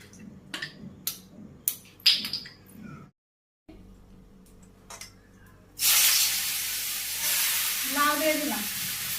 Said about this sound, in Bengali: কড়াই গরম হয়ে গেছে, তেল দিয়ে দিই।